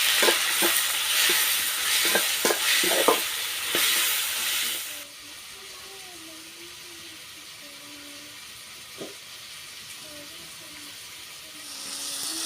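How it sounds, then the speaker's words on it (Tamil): Tomatoes and salt are stirred in a frying pan for an aubergine yogurt curry. A spoon scrapes and clinks against the pan over a soft sizzle, then the hiss settles to a quieter simmer while a voice speaks faintly. "தக்காளி வதங்கிறதுக்கு உப்பு சேர்த்துக்கிறேன் சேர்த்து இப்போ நல்லா கலந்து விட்டுடலாம்"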